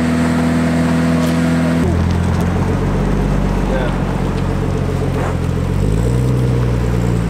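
Turbocharged K20-powered Integra running on a dyno, a loud continuous engine drone that shifts pitch and settles partway through, with faint voices in the background.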